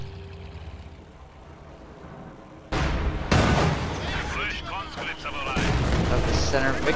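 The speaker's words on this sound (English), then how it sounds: "Smoke grenade and regular grenade being tossed to try and take out those Folks Grenadiers" A sudden loud grenade blast erupts in a World War II strategy video game battle, followed by a sustained roar of explosions and gunfire rumbling on continuously.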